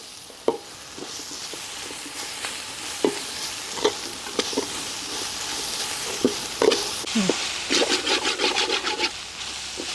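Onions and green chillies sautéing in oil in a pan while being stirred, a steady soft sizzle under scraping spoon strokes and occasional sharper clacks, growing busier toward the end; no talking.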